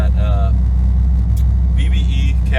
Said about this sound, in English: As you can probably hear, the car is pretty loud.